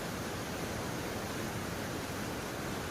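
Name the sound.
flowing water of a mountain stream at Wawa Dam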